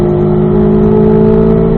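A car on a race track accelerates in fourth gear out of a corner, its engine a loud, steady mid-pitched drone close to the microphone.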